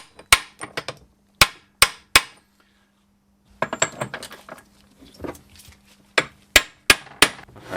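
Lock tabs being tapped back on a Classic Mini 1380 gearbox, a series of sharp metallic hammer strikes in uneven clusters with short gaps, close and loud, plus some quieter clinks and shuffling.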